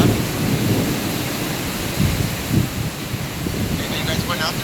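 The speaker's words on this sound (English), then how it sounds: "You're gonna hear the thunder right now." A low thunder rumble rolls through a spring storm at a wilderness lodge, heard over wind buffeting the microphone and rain, with a few faint voices nearby.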